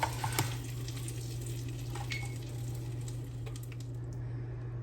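Butter browning in a pan while cooking cornbread and tomatoes, a soft steady sizzle and crackle with a low hum underneath and a few small clicks, no talking.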